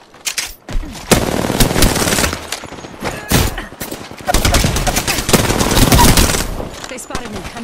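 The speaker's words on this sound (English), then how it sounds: "They spotted me. I'm taking shots." Gunfire hitting the player in the Apex Legends video game, rapid machine-gun bursts in loud clusters separated by brief pauses, close and punchy, with speech-like game sounds mixed in.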